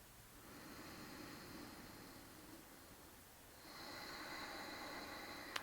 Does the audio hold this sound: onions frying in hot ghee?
no